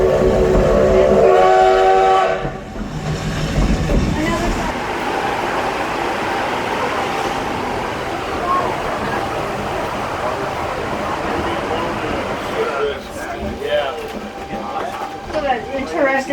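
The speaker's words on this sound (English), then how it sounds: "that interesting happening at the front of the train is called a boiler blowdown" Steam locomotive number 7 runs near Hill City toward Keystone and vents a boiler blowdown, a loud sustained rushing hiss over train rumble after an opening whistle, with voices talking nearby.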